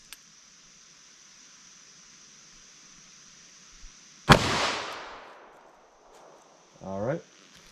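A single sharp, loud gunshot from a .327 Federal Magnum revolver with a 4.2-inch barrel firing a Sierra JHC handload cracks out of near silence and rings with a decaying echo, followed by a brief voice.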